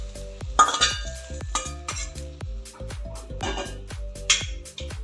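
A metal spoon scrapes and clinks against a kadhai as fried ivy gourd (tendli) is lifted out, giving a close series of sharp, irregular metallic taps and scrapes over about five seconds.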